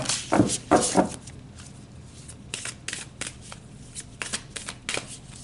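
Tarot cards are shuffled by hand: two loud riffling bursts open the sequence, followed by softer, intermittent card handling and scraping. No one speaks.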